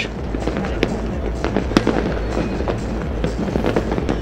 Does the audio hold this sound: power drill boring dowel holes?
no